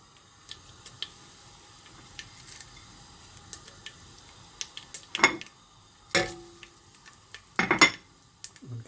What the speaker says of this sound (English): And give that a little stir as well.